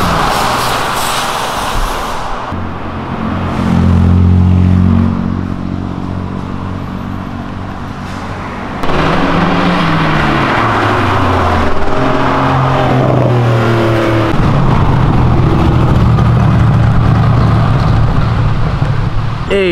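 Porsche 911 engine revving at a European car meet, throttle climbing and falling in repeated loud, close bursts against a steady crowd and traffic background, with people talking nearby.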